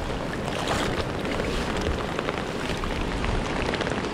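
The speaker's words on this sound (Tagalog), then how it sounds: "Wala nang hangin. Ulan na lang ang meron." Steady storm rain patters densely on a surface in Bani, Pangasinan, a continuous hiss with a faint wind rumble underneath and no talking.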